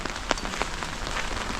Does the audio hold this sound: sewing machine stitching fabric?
no